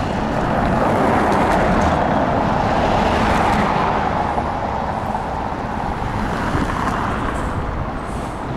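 Busy street traffic in Alanya, Turkey: a loud, continuous roar of passing cars close by, with wind noise mixed in and no break in the flow.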